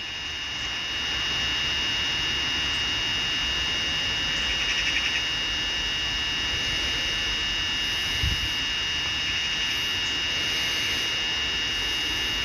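A camera drone hovers at its maximum altitude over Bognor Regis, UK, giving a steady, constant whine with bright high tones over a broad rushing wind-like hiss, unbroken for the whole stretch with no voices.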